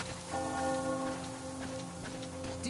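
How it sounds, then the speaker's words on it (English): Church bell tolling in the Metro video game, a sustained ringing tone heard under a steady rain-like hiss and ambient noise. "Do you hear that bell?"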